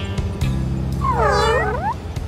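Cartoon kittens meow in a rising and falling cry that stands out clearly over a low hum of background music, with no talking.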